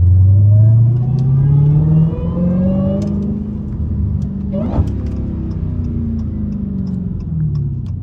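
A Dodge Hellcat's engine revs and rumbles loudly up close during a slide in a rainstorm, with a strong low drone that rises and falls steadily across the whole stretch.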